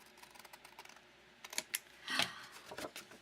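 Scissors cut out the corner of a paper box in a few quick, crisp snips and rustles, close and fairly quiet, with no talking.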